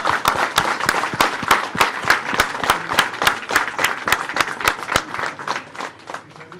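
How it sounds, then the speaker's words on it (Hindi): A large crowd at a 75th birthday celebration claps in steady, synchronized rhythm, loud sharp claps ringing out in even beats close by throughout. "आप इतनी जोरदार तालियां बजाएं कि सर को पता चले कि आज उनके 75th बर्थडे है"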